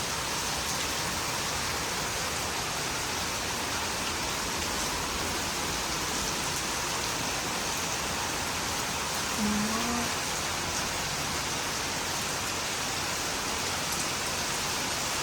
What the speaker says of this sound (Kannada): ಈಗ ಒಮ್ಮೆ ಮಳೆ ಚಾಲು ಆಯ್ತು.